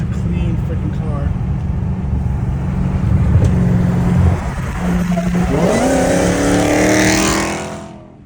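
Catless Dodge Hellcat Redeye engine rumbling loud from inside, swelling into a rising rev with a climbing whine before fading, while voices talk over it.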